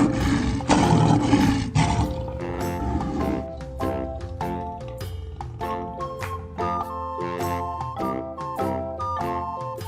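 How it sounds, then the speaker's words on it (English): A lion toy gives a loud, rough roar lasting about two seconds, followed by a tinkling music-box melody that carries on to the end. "Lion."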